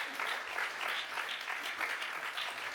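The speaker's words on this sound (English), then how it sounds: "A big round of applause." An audience gives a steady round of applause to thank the volunteer decorators at a devotional event, dense and continuous throughout with no one talking over it.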